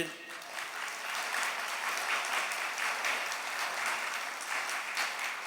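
A church congregation claps hands together during a Catholic prayer talk, a steady dense wash of applause that holds evenly from start to finish at a moderate distance, with faint voices mixed in underneath.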